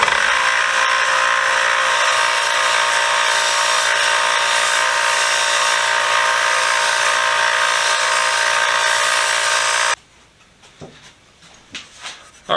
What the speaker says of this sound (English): we're going to use the 1x30 with my gray conditioning belt on there